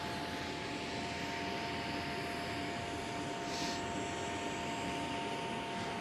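An Airbus A330 jet airliner landing at Amsterdam Schiphol, heard as a steady, loud, broad jet roar that holds constant throughout, with a faint tonal whine riding above it.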